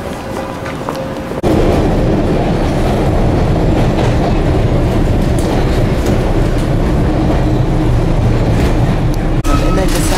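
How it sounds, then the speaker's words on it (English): Train rumbling past at close range, a loud steady roar with rhythmic clickety-clack of wheels on rail joints that starts abruptly and holds for most of the span, with no talk over it. "This is a choo-choo train."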